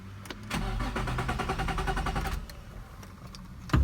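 An old project car's engine cranks and catches. The starter whirs in a steady rhythmic churn for about two seconds, and then the engine settles into a rough idle, loud and close.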